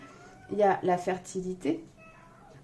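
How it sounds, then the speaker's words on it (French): A house cat meows faintly and briefly in the background of an indoor room while someone talks over it in French. "Je suis désolée si vous entendez mon chat miauler"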